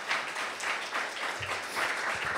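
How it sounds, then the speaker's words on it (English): A brief burst of audience applause at a women's awards ceremony, a dense, fairly quiet patter of many hands clapping steadily for a couple of seconds. "Let's give her one more big round of applause."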